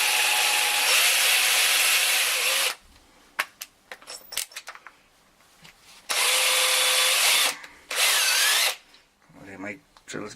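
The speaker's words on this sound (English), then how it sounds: "I'm going to grab my big heavy duty drill and I'm going to drill exactly where that pinhole should be" A heavy-duty power drill whines loudly in two long bursts and one short one, boring a pinhole in a model, with quiet clicks and handling noises in the pauses.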